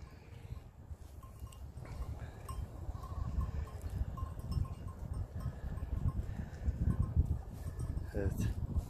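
Lambs and sheep out in spring, with bleats under and between a voice and general outdoor noise.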